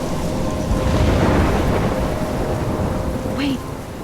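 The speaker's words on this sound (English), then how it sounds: "in a storm?" A thunderstorm in the game Life is Strange, with heavy rain and deep rolling thunder filling the scene continuously and loudly, and a brief higher tone near the end.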